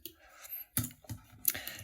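Computer keyboard keystrokes typing shortcuts during vector path editing, a few sharp clicks spaced out over a couple of seconds, close and distinct against a quiet background.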